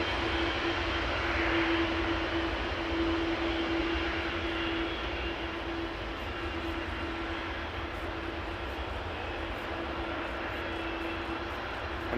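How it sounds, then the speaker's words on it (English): United Airlines Boeing 767-400ER jet at Amsterdam Schiphol, a sustained, moderately loud engine roar with a steady hum, slightly stronger early and then easing, with no voices. "It is a 767-400 ER, 21 years old"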